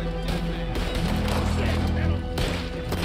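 Sustained burst of Maxim machine-gun fire in Red Dead Redemption 2, loud and dense for about three seconds, with heavy low rumble and game music or crowd noise mixed underneath.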